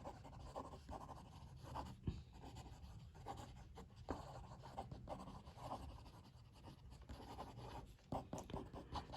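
A Sailor Tuzu Adjust fountain pen writes quickly on paper, giving a close, continuous scratchy nib sound with short bursts and brief pauses between strokes, heard alone without talk.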